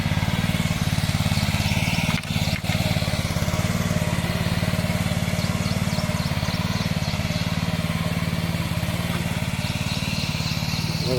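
A tractor engine runs steadily during rice sowing in Konkan at Kumbhavade, Rajapur, a continuous loud mid-pitched drone with a brief dip partway, no voices.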